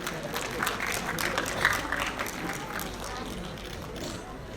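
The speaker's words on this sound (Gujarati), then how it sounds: "આવો આપણે સૌ તાળીઓના ગુંજારોથી વધાવતા રહીએ" An audience claps at a groundbreaking ceremony for Bhavnagar municipal development works, a continuous spread of applause from a gathered crowd, moderately loud and somewhat distant, with a faint voice mixed in.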